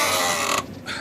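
The rear boot of a Jeep Commander 4.7 V8 SRT8, stiff from lack of use, opens with a single close, loud, drawn-out creak, then a brief mechanical clunk.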